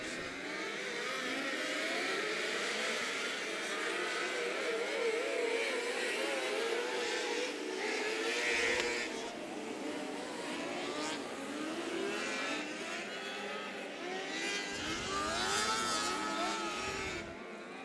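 Race car engines at Wayne County Speedway roar and rev continuously at night, with a constant loud drone and shifting pitch as cars accelerate, near and steady throughout.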